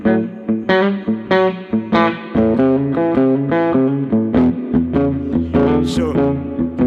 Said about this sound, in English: I'm going to bring the reverb up.